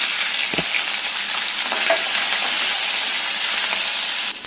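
Ivy gourd and green chillies fry in a pan with mustard seeds and ginger paste, giving a steady, loud sizzle and hiss with a few brief stirring clicks and no talk.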